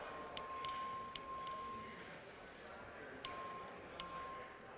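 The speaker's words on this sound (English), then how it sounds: "Clerk, ring the bell." A chiming bell rings in a state House chamber to open a recorded vote, with several bright, clear strikes in two short groups, each fading quickly over a quiet hum and faint room murmur.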